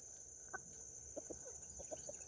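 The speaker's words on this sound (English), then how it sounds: "we're going to get these chickens fed" Chickens cluck softly nearby at feeding time in a backyard, a few short scattered clucks over a constant high-pitched hiss of background noise.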